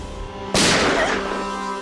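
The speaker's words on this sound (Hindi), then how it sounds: "ये क्या गोली चलने की आवाज है?" A single sharp gunshot in a residential neighbourhood cracks out suddenly after a quiet hum, its loud blast fading slowly into a lingering echo.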